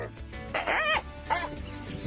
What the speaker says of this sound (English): This dog is clearly better at barking than acting